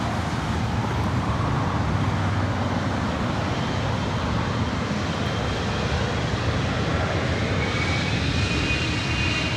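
A steady, loud, broad roar of an airliner's engines on takeoff from runway 24 right at LAX, unbroken and fairly close, with no voices.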